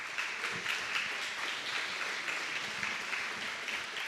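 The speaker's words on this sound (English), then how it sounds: "Let's give Tim a round of applause" Steady audience applause at a Chamber of Commerce awards ceremony honoring a small business nominee, a dense continuous wash of clapping at moderate level with no talk.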